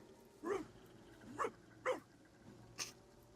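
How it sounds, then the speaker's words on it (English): A zombie dog in the video game Divinity: Original Sin gives four short, fairly quiet barks and yelps, spaced about half a second to a second apart, with no talk over them. "Is that a zombie dog?"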